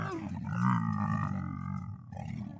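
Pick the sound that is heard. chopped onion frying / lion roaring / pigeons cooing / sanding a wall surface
lion roaring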